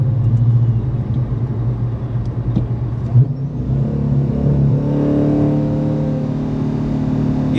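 A Whipple-supercharged Dodge Challenger 392 making about 750 wheel horsepower accelerates hard, its loud, deep engine rumble climbing steadily in pitch as it revs up, heard close with no talking.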